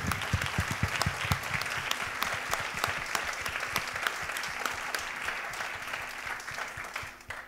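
A theatre audience at a fado concert in Angra do Heroísmo claps steadily, a dense, even wash of many hands that carries on throughout and tapers slightly at the very end.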